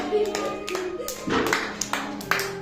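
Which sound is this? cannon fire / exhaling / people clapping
people clapping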